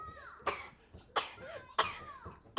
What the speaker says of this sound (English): You just cough all on me